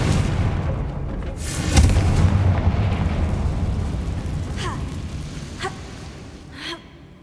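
The Confringo fire spell goes off in Hogwarts Legacy with a loud, rumbling blast that rolls on and fades slowly, followed by a few fainter crackling bursts.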